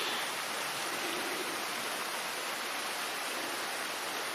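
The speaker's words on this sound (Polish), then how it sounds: "dobrze, że dzisiaj pada, bo ten deszcz naprawdę jest i zbawienny i potrzebny" Steady rain falling over a garden at the end of September, a continuous soft hiss with no breaks, fairly close and even throughout, with no voices.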